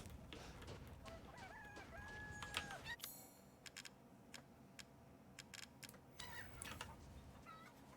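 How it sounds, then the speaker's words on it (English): Chickens clucking and squawking in Resident Evil Village, several birds in a game farmyard, with sharp intermittent clicks and thuds from gameplay mixed in over about eight seconds. "let's take out the chickens."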